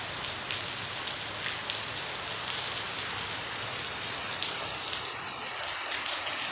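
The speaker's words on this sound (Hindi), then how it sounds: "देखिए कितना अच्छा बारिश हो रही है यहाँ।" Heavy rain pours down steadily in a dense, hissing wash, with pattering drops on surfaces and no voices, continuous and fairly close.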